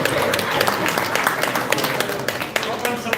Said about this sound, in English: I'm surprised I got clapped